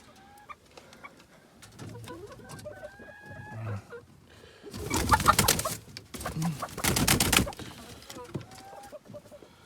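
Backyard hens clucking and pecking around a garden enclosure, soft scattered calls and scratching at first, then louder bursts of clucking and fluttering activity close by, with pigeon-like cooing in the mix.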